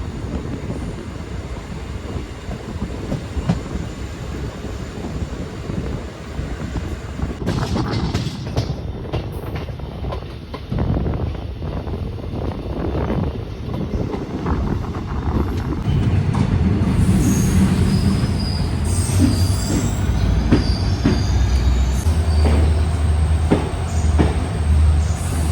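A train travelling between Mendipathar and Guwahati in Assam runs steadily and loudly, with rumbling wheels and clattering cars, and its wheels squeal in long high-pitched tones near the end. No one speaks.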